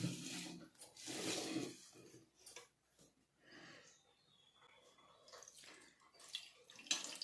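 Plain water is poured over hands for washing, giving faint splashing and trickling bursts close by, with quieter gaps between.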